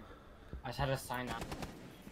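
Shotgun blasts in Rainbow Six Siege: a few sharp, close bursts of gunfire in quick succession, overlapping with someone talking in Spanish.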